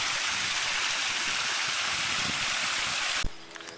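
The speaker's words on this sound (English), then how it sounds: "There's a spectacular waterfall for the middle of a park." A park waterfall in the Botanical Gardens of Georgetown, Guyana roars as a loud, steady broadband rush of falling water, then cuts off abruptly near the end, leaving quieter ambience.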